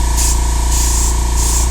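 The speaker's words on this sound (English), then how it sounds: "I began with spraying on the base colors" A Gaahleri 98D airbrush sprays base-coat paint onto figures, three short airy hissing bursts over a constant low compressor hum, close and loud.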